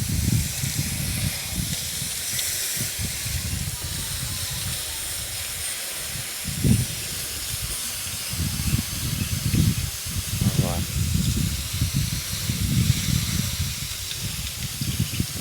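A water spray hisses steadily while an air conditioner coil is rinsed clean of coil cleaner, a continuous broadband wash with brief louder bursts, heard close alongside low rumbling background noise.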